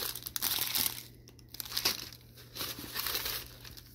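Crinkly paper seed bags rustle and crumple in bursts as hands rummage through a box of them, close and fairly quiet, with no speech.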